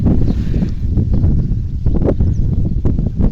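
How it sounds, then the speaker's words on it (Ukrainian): Steady cold wind buffets the microphone outdoors in a vegetable garden with a continuous low rumble, loud and close, without talk. "Ох, вітер холодний."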